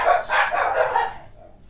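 Several dogs bark and yip excitedly in a quick, overlapping burst during a tabletop role-playing session. The barking is loud and close and fades toward the end.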